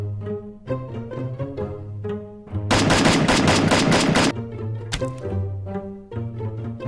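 Free Fire video game animation gunfire: a dense burst of rapid automatic shots lasting over a second, set between single sharp reports and layered over music or game tones.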